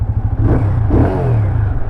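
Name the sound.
motorcycle engine idling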